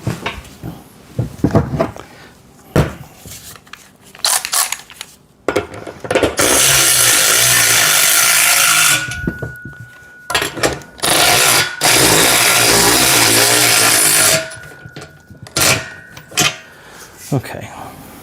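Nuts and washers are tightened while a pec deck and rear delt home gym machine is assembled. Two long, loud stretches of power-tool whirring stand out among clanks and handling noise, and a person talks in between.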